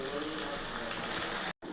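Water poured into frying masala of tomato and capsicum for doi chicken, a dense continuous rushing hiss that fills nearly the whole moment before a brief cut-off, with a voice talking over it.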